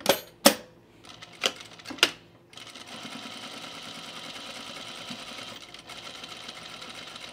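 A sewing machine stitching a backstitch on chino pants makes a few sharp separate clacks, then a continuous fast mechanical chatter of stitching that runs steadily to the end, close and moderately loud.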